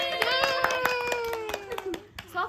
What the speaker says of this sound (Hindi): सॉक्स वाली तालियां